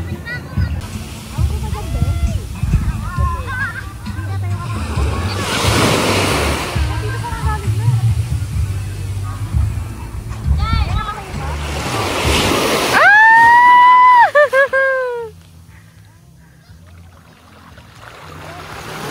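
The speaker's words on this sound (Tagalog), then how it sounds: "Ang lakas ng alon!" Strong sea waves surge and crash around a small boat out on the open water, loud rushing water with bursts of spray, while people's voices and shouts are heard over the noise.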